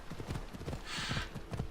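Horse hooves gallop in steady clip-clop beats in Assassin's Creed Odyssey, close and fairly loud, with a brief hiss of wind or rushing in the middle.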